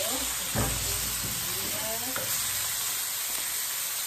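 Meat sizzles and fries in its own rendered fat in a pan, a steady close hiss and crackle with occasional stirring sounds throughout, no talking.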